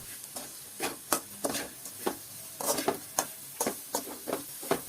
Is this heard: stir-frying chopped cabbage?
yes